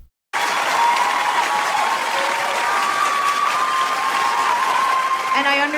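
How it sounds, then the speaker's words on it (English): Large audience applauding and cheering in a continuous loud roar of clapping that starts abruptly and holds steady, with crowd voices mixed in. "And I understand women cheer for that."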